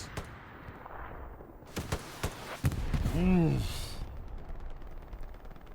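Distant and mid-range gunfire in the World War II shooter Hell Let Loose: scattered sharp cracks and a few quick bursts, with a rising whistling tone midway and muffled battlefield noise underneath.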